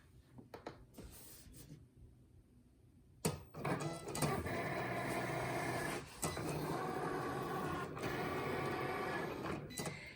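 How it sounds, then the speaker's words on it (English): A Cricut Explore cutting machine cuts faux leather for earrings: a few faint clicks and loading noises give way to a steady, close mechanical whirring and grinding with brief pauses and shifts in pitch. "we can go ahead and we can put our material through the cutter"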